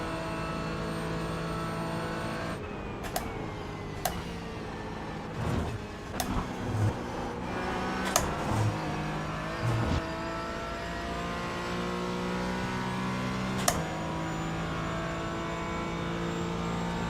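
A GT4 race car in the iRacing simulator drones with a steady engine note, its pitch climbing and dropping through gear changes, with sharp shift clicks and brief bumps along the way.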